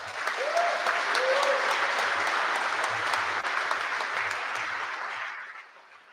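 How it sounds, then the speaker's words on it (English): An audience at a military academy awards ceremony applauds the award nominees: sustained, dense clapping from a large indoor crowd that holds steady, then fades out at the end, with no talking over it. "please give our nominees a round of applause"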